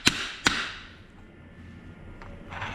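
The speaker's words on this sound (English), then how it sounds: "I'm gonna give it a couple of whacks like this." Two sharp metallic whacks land close together on a socket being driven onto a motorcycle front fork during a Magnum Series 6 fork replacement. Quieter faint taps and handling noise follow in a quiet room.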